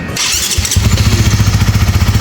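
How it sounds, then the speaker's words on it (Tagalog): A HAYPO replacement starter motor cranks a WinnerX/RS150 motorcycle engine with a brief whir, then the engine catches and settles into a steady, loud, close idle with a regular pulsing beat. "Parehas na parehas sa stock ang tunog ng stock motor na to."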